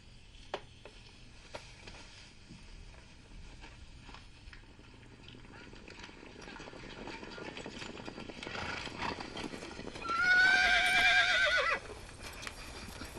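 Horses whinny and hooves clip-clop in a Mongolian historical drama about Chinggis Khan. Sparse hoof knocks open the scene, shuffling builds beneath, then a loud, close neigh rings out near the end. Someone speaks in places.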